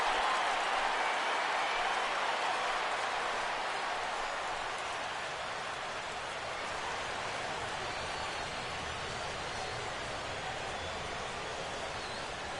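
Steady crowd ovation for the pitcher in a baseball video game, a broad even wash of applause and cheering that holds at moderate level throughout and slowly eases slightly, with no talk.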